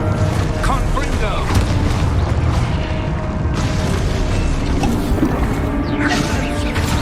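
Spell blasts from the Hogwarts Legacy video game, including Confringo, sound through dense game audio, with booming impacts, mechanical creaks and rattles layered over a constant loud rumble and a faint voice at times.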